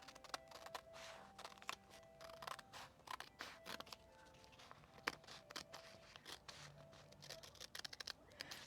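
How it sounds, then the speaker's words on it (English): Scissors snip number labels off a diamond painting kit, a run of close, crisp cuts with small crunchy clicks and rustles at an uneven pace, with no talking. "I'm going to cut these numbers off"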